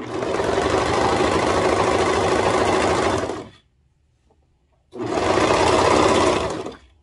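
A sewing machine stitching velvet fabric runs in a loud continuous whirring burst for about three and a half seconds, stops briefly, then runs again for a shorter stretch; no voices.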